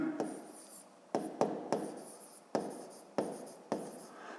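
A pen writes out a division problem by hand on paper, a series of close, quiet scratching strokes in short bursts with brief pauses between them.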